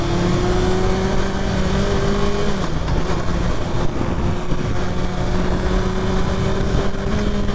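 Steady, loud engine drone of a 2023 Kawasaki Ninja ZX6R motorcycle held at moderate revs on a group ride, with a brief pitch shift midway and heavy wind rush over the microphone throughout.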